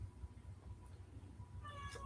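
A cat lets out a drawn-out meow near the end, rising over a low steady hum; the rest is quiet background.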